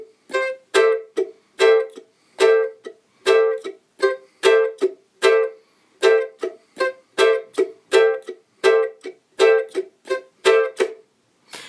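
Ukulele strummed in a cavaquinho-style samba pattern, slow and even, with repeated bright chord strokes in a steady syncopated rhythm, close and alone without voices.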